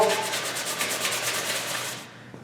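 A rasp and 60-grit sandpaper shape the neck-to-heel transition of a wooden guitar neck, giving a steady, close, rhythmic scratchy rubbing of quick repeated strokes that stops abruptly near the end.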